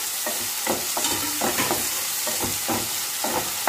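Chopped tomatoes go into a hot pan and sizzle while being stirred, producing a steady hiss with a regular series of scraping strokes close by.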